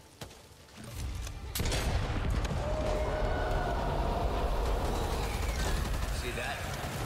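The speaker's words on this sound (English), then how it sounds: "I'm loading it in and firing it off at my leisure." Rapid weapon fire in the co-op zombie shooter Back 4 Blood, a dense sustained burst of loud gunshots that starts after a short quiet lead-in and keeps going with game noise behind it, while players talk over it.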